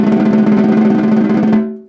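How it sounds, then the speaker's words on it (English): A dense, sustained snare drum buzz roll with the snares off, dry and hollow in tone, held steady for over a second before fading out quickly. "So, the buzz roll will sound like this."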